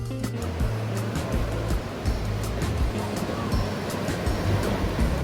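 Ocean surf at Ho'okipa Beach in Paia, Maui, a steady roaring wash of breaking waves close by, loud and continuous with small repeated surges and no voices.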